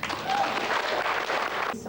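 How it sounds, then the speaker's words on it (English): An audience at a concert applauds, a brief dense burst of clapping from a crowd that cuts off abruptly at the end. "Give yourselves a clap."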